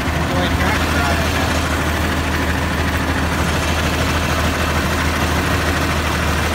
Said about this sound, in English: I'd run it a little bit farther just to see what it sounds like, but I'm leaving it as an idle.